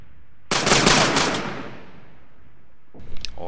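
A rifle volley fired during close order drill by a 29th Infantry Division squad: one sharp, loud crack of massed rifles that rings out and decays over about two seconds, followed by faint metallic rifle handling.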